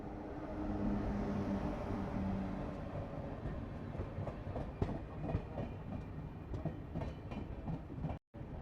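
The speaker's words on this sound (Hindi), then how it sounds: "हमारे सामने से आती हुई नॉर्थ ईस्ट एक्सप्रेस, जो कि आनंद विहार से चल करके गुवाहाटी तक जाती है।" The North East Express, running from Anand Vihar to Guwahati, rolls past in heavy rain: a continuous loud rumble of railcars with clickety-clack wheel beats layered over the hiss of rainfall.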